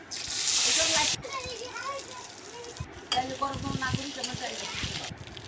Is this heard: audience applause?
no